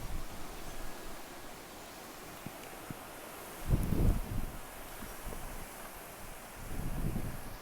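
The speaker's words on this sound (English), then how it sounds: "It is so windy." Steady wind rushes across the microphone in a garden, with two stronger low gusts buffeting it partway through and near the end.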